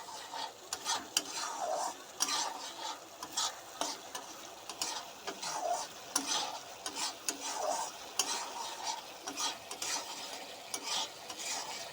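Mustard spice paste is stirred in a hot pan for an eggplant and bata fish jhal, repeated rhythmic scraping strokes over a low sizzle, close by with no talking.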